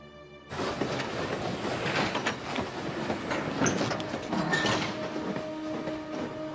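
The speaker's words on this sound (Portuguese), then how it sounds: "um comboio com deportados deixou a região em direção aos campos de concentração, em 17 de agosto de 1944" A train rolls steadily past, loud and close, with dense rumbling, clattering wheels and faint metallic squeals, departing as a convoy carrying deportees toward concentration camps in 1944.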